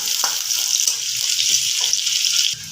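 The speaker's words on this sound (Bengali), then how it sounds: "পেঁয়াজটাকে খুব ভালোভাবে নেড়ে নেবো" Onions stirred while frying for an egg kachori filling, a bright hiss with a run of soft, rhythmic scrapes close by for a few seconds.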